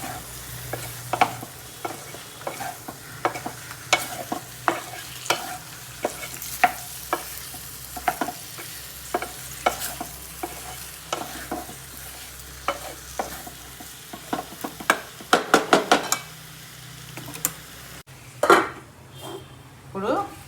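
Murrel fish fries in a pan while being stirred, giving a continuous sizzle under repeated sharp clinks and scrapes of a utensil against the pan, close and fairly loud throughout.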